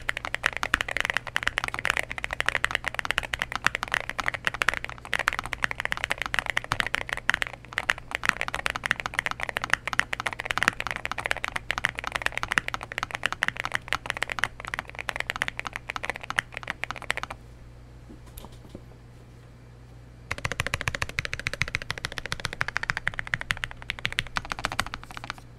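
Continuous fast typing on a Nuphy Nos75 mechanical keyboard in a stiffer setup, a dense stream of close, crisp key clacks that pauses briefly near the end before resuming.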